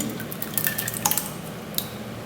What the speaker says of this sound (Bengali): আমি টক দইটা ঢেলে দিচ্ছি